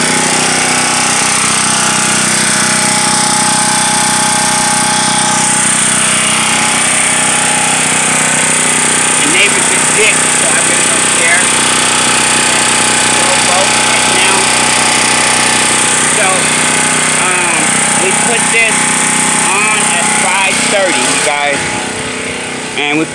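A 3500 watt gasoline generator heard up close, a loud steady engine drone with a buzzing mechanical whine holding constant throughout, a few faint voices mixed in beneath it.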